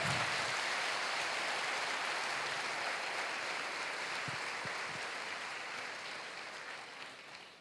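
Applause from a church congregation responding to a preacher, a dense steady wash of clapping that fills the whole stretch and slowly tapers off toward the end, with no voices over it.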